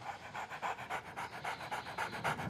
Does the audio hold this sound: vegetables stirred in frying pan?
no